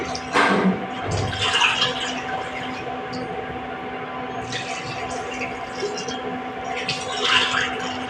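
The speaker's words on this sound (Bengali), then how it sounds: "এখানে তিন বাটি জল দেবো নর্মাল জল গরম জল না" Three bowls of normal-temperature water are poured over rice for chicken pulao. Gushing, splashing pours come in bursts over a steady background hum, and a person talks over the sound.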